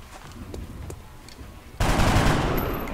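Gunfire in the video game XCOM, a sudden burst of dense automatic shooting that breaks in after a quieter stretch of faint clicks and continues loudly to the end.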